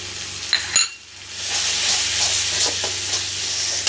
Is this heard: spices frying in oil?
yes